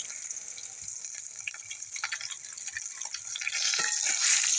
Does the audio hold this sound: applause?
no